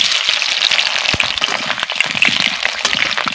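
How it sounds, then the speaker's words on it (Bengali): Large potato pieces frying in oil while making biryani: a loud, dense crackle of spitting, popping oil that runs continuously throughout. "ওই তেলে আমি কেটে রাখা আলুগুলোকেও ভেজে নেব।"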